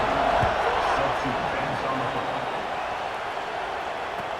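A college football video game stadium crowd, South Carolina against Clemson, buzzes after a score. The roar is a dense, steady wash that starts loud and eases slightly across the clip.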